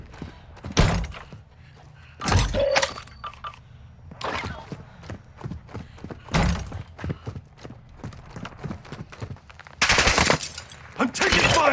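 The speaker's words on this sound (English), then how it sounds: "I'm taking enemy fire!" Gunfire in the video game Call of Duty DMZ, with loud, close bursts and single shots breaking out at irregular intervals over a busy mechanical background, ending in a sustained heavy volley.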